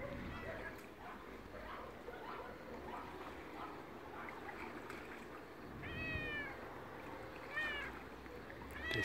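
A cat meows twice near the end, rising cries over a steady noisy background din.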